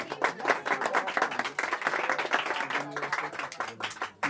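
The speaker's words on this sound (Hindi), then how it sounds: "देखो जोरदार ताली बजा दो" Schoolchildren in a maths classroom clap loudly together for several seconds, a dense, uneven patter of many hands with a few louder bursts near the end, and voices mixed in beneath the clapping.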